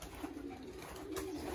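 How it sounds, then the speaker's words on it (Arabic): Pigeons of various breeds coo softly in a homemade backyard loft near Berlin; low, muffled cooing sits within a steady wash of background noise, with no talking. "حمام انواع واشكال، دار كامله"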